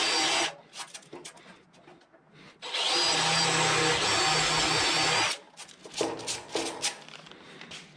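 Close electric drill grinding through sheet metal of a Cobra Jet's rocker panel in a long steady burst between shorter rattling bursts and taps of metal.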